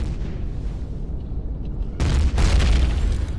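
Ship cannon fire and explosions in the space game Empyrion: a low rumbling background abruptly gives way to a loud, booming blast that rolls on with heavy low-end thuds.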